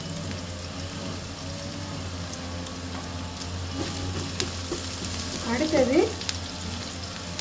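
Ingredients sautéing in a pan for palak paneer, a steady low frying sizzle with stirring scrapes that swell near the end, under a brief spoken word.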